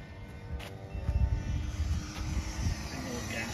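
A Mitsubishi Zero warbird's piston engine drones at an outdoor fly-in, a steady low rumble that swells in the middle and then eases. Ambient outdoor noise surrounds it.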